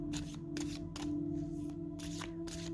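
Oracle cards are shuffled by hand in quick, regular riffling bursts, about five swishes in under three seconds, close and clear over a faint steady hum.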